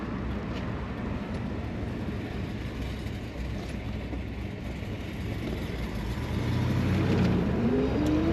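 A black 1970 Chevrolet Chevelle SS convertible with an LS5 V8 and four-speed manual gives a steady, subdued exhaust rumble while driving, swelling louder near the end as it pulls harder.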